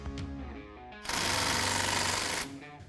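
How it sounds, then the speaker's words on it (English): A power impact tool with a 1/2-inch socket runs on the differential cover bolts of a 1963-1987 Chevy C10 rear axle. It fires one loud, rattling burst of about one and a half seconds, with quieter sound before and after. "Grab a 1/2-inch socket, remove the bolts."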